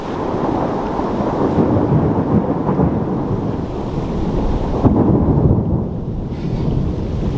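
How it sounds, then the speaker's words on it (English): Thunder after a lightning strike rolls and rumbles loudly and continuously over steady rain outdoors beside a backyard pool pond. "That was a lightning bolt."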